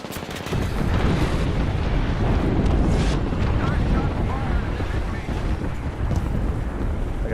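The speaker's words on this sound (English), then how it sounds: "Yo, we got an airstrike coming down." Loud, continuous rumbling blasts from an airstrike in the Call of Duty Modern Warfare 2 video game, a dense roar of explosions filling the whole stretch with a few sharper bursts, while players talk over it.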